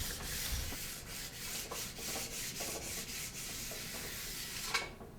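A sharpening stone polishes the base edge of an alpine ski in a steady run of soft, close scraping strokes, rhythmic and quiet with no talk.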